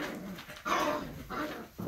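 Red puppies squabble during play, giving a few short yips and growly whimpers in quick bursts at close range, moderately loud over a steady indoor background with no speech.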